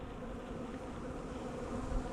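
A dense, steady hum of many honey bees buzzing together around a hive, close and continuous, with no voices.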